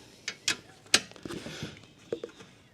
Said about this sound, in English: it's just a matter of undoing the bolts on the bottom of the diesel pump